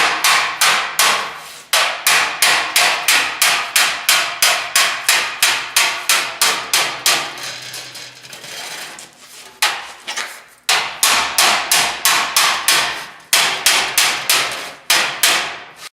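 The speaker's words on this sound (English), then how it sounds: "if I just hammer this here, just this part here back a little, that'll let the front pull in" Sheet metal body panel on a Land Cruiser being hammered in a fabrication shop, a loud, steady run of sharp ringing blows at a quick even pace, pausing briefly midway before resuming.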